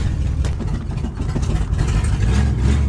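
An old Ford Galaxie that sat parked for five years idles with a low, steady, uneven rumble, close by and alone for a few seconds.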